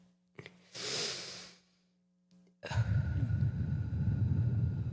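Slow exhalations during a breathing exercise: a soft breathy sigh out, a pause, then a louder, close, rushing breath pushed directly into the microphone.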